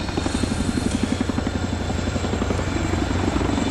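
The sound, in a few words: Chinook helicopter in flight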